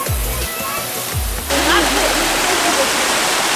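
A mountain waterfall pours in a steady broadband roar that swells louder partway through, with low rumbling handling noise early on and a few faint voices mixed in.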